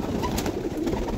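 Pigeons kept in a loft coo softly in short, low, throaty bursts, close by against a light background hum.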